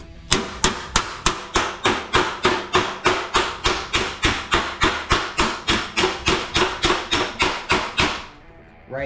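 A steady run of about thirty sharp metallic hammer blows strikes welded sheet metal backed by a dolly to stretch and straighten it. The rhythm is fast and even, each ringing hit close and loud, before the strikes stop near the end.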